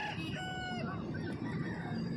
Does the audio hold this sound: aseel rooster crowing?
yes